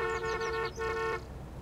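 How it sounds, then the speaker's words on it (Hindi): A taxi's car horn in Taxi Life Simulator honks in a quick series of short, bright toots, then gives one slightly longer blast before stopping, loud and close with road noise beneath. "हॉर्न तो बजा सकते हैं, कोई दिक्कत नहीं है।"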